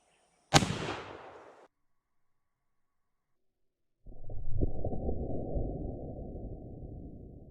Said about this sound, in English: here goes another round down range.